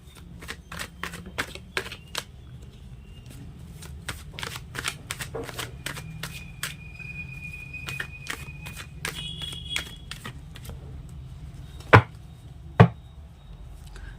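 A tarot card deck is shuffled in a series of quick, crisp riffling clicks at close range, continuing steadily with two sharper snaps near the end.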